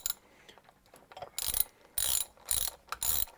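Rotor bolts on an MBK-1 mini bike tightened with an Allen key socket on a ratchet, several short bursts of ratcheting clicks after a few faint taps, close and clear with no talking.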